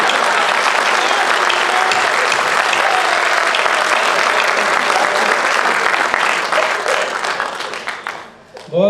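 Sustained, loud audience applause fills a Hindi comedy poetry gathering (hasya kavi sammelan) in Navi Mumbai, dense clapping continuing steadily before tapering off near the end as a voice returns.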